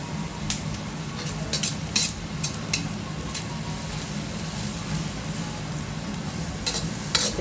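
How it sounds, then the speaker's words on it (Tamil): Onion and garlic frying lightly in a pan for Chinese fried rice, a constant close sizzle with sharp metallic clinks and scrapes of a spatula against the pan every second or so. "வெங்காயம் பூண்டு லேசாக பொரிஞ்சா போதும்"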